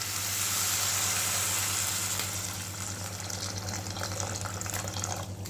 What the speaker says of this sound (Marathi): आता आपण काय करूया ह्याच्यात गरमागरम पाणी ॲड करूया